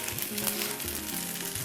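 Ginger and garlic frying in a pan for murgh nazakat, a brief, even, close sizzle with a faint scrape of stirring.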